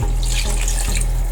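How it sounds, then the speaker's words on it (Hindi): Water pours into a pot of half a kilo of mutton chops cooking in masala, a loud close continuous splashing stream lasting the whole moment, with no speech over it. "इस मौके पे आके मैं जो हूँ पानी ऐड करूँगी इसके अंदर।"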